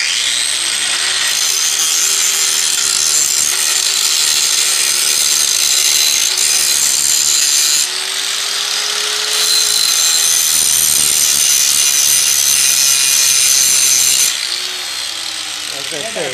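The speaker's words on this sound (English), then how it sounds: "I was grinding a little bit because I'm trying to create like a little bit of a flat surface" An angle grinder strips paint from the metal frame of a mini chopper, a loud steady abrasive whine and scrape running continuously with brief changes in pressure.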